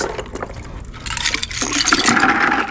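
Beach shells, freshly cleaned of algae, are dropped into a bucket of rinse water, making a close, uneven run of splashing and sloshing that grows slightly busier toward the end, with no talking.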